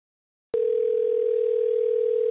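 Telephone dial tone after a disconnected call, a single steady loud tone that starts abruptly with a click and holds unbroken to the end, with no talk.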